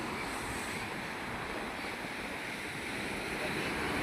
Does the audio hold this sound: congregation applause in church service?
no